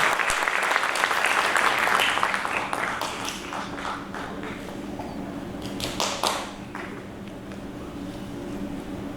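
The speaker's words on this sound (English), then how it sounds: "A big round of applause for the Shishya, Ronit Pandey." An audience at a concert of Indian classical music claps in a dense burst of applause that gradually thins to scattered claps and taps, with some faint talk underneath.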